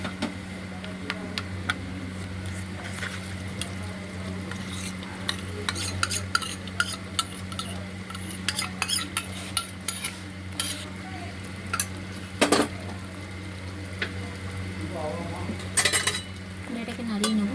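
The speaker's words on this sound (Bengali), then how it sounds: "এটাকে নাড়িয়ে নেব।" Stirring mutton with yogurt and ground spice paste in a home kitchen pot, with a spoon scraping and clinking against the metal in irregular taps over a soft background hum and faint sizzle.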